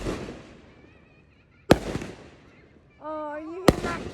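Fireworks going off outside in two sharp, loud bangs about two seconds apart, with a whistling trail and a voice calling out between them.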